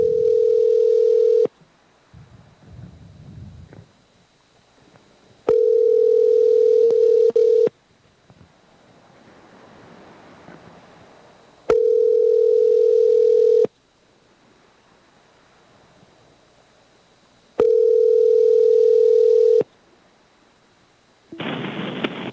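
An outgoing phone call gives a steady ringback tone in four long, evenly spaced bursts separated by quiet gaps, ending with a short higher-pitched beep as a voicemail picks up.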